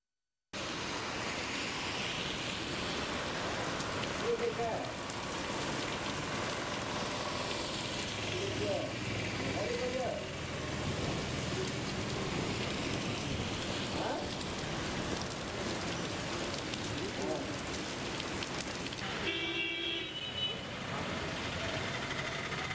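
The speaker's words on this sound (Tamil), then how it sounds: "கோடை மழை வெளுத்து வாங்கியது" Heavy summer rain pours down in Tamil Nadu, a steady dense hiss of drops on surfaces lasting over twenty seconds, with faint voices and passing traffic underneath.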